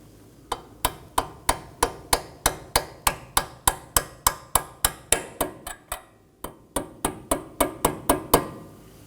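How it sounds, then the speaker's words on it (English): Steady run of sharp metal hammer strikes driving a clip onto a Nissan Maxima front strut, about two per second, close and loud, with one brief pause before the blows resume. "finish installing it with a hammer"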